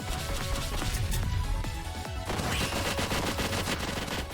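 Rapid gunfire bursts and impact crashes in the video game One Step From Eden, dense overlapping shots in quick succession, loud and close.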